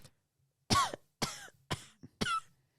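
A person imitating coughs with the voice: four or five short, deliberate cough sounds spaced about half a second apart, close and clear in a quiet room.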